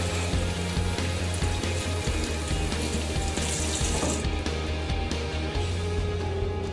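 Tap water runs steadily into a kitchen sink as an onion is rinsed under it, a continuous splashing hiss that holds through the whole stretch with no talk.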